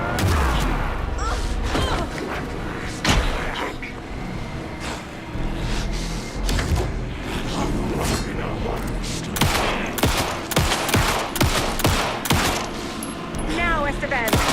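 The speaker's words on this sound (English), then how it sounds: "Anderson, pin him down with gunfire for me to get the light on him" Rapid gunfire bursts and booming shots fill a tense Alan Wake 2 fight, dense and loud throughout, with voiced game dialogue breaking in between volleys.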